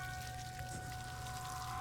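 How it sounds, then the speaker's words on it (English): Running water gushes steadily from hoses in the horror video game Death Mark, a continuous close splashing and pouring wash with a faint hum beneath it. "Guess that explains the sound of running water."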